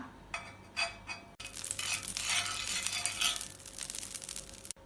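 After a few short scraping sounds, butter hisses and sizzles on a hot griddle for oats banana pancakes, a loud continuous crackle up close with no voices.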